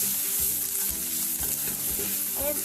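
Onions fry in hot oil for Goan-style chicken vindaloo, a dense continuous sizzle broken by soft scraping stirs of a spoon in the pan.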